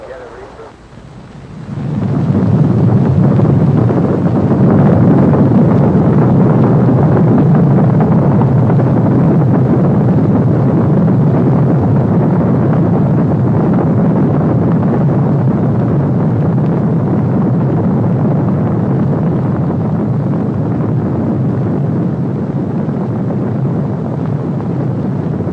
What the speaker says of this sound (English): The liftoff had been perfect.